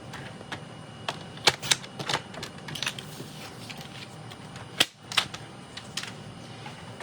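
Paper for a card is cut on a trimmer, a series of close, sharp clicks and snaps at irregular intervals over a quiet background.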